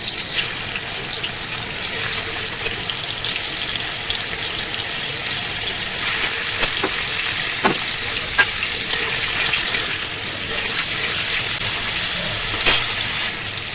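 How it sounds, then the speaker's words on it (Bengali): Paneer frying in hot oil in a pan makes a steady close sizzle throughout, broken by scattered pops and spatula scrapes, with no speech. "তেল গরম হয়ে গেছে, পনিরগুলো এবার দিয়ে দেবো।"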